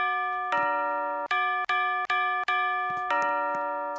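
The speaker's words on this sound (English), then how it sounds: "Now we've got a functioning doorbell." An electronic doorbell chimes repeatedly in a Roblox game, clear bright tones struck about seven times in an uneven sequence, each ring sustaining until the next with short gaps between.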